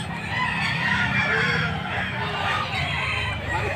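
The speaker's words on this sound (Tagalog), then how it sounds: "Mumura ng mga manok dito mga boss." Gamecock roosters crow and hens cluck over a dense, continuous din at a pet market, many birds close by and loud throughout.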